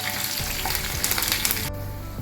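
Tempering spices fry in hot oil on a slow flame for radish chutney, giving a steady close sizzle with faint stirring clicks before it suddenly drops away near the end.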